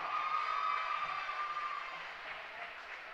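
A crowd applauds and cheers for a senior cheerleader being introduced at a high school boys' basketball game, a steady wash of clapping that holds loud throughout, then eases slightly.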